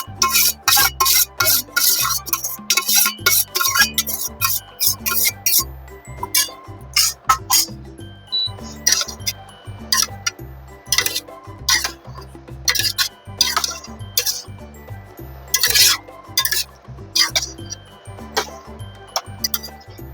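A spoon stirs boiled chickpeas and potatoes into spiced oil in a pan, giving a steady run of sharp metallic clinks and scrapes, with a low tonal hum running underneath.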